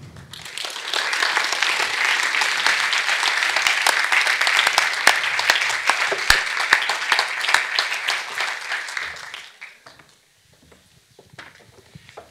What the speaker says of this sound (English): Please give a big applause to Alfredo Jaar.